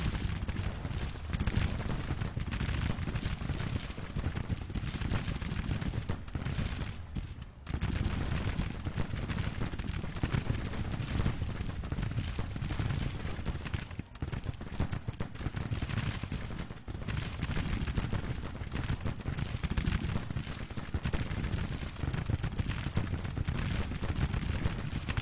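Civil War artillery firing in the Grand Tactician strategy game, a dense, continuous rumble of booming cannon and crackling gunfire that rolls on without pause for the whole stretch.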